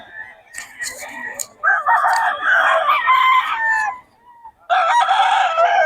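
A blue stag, a young rooster, crows loudly and close by in a couple of long, strained calls separated by a brief pause, with other fowl clucking faintly nearby.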